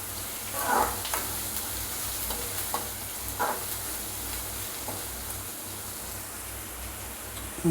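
Finely chopped onions fry in a pan with a steady soft sizzle, broken by a few louder stirring scrapes, heard close with no talking.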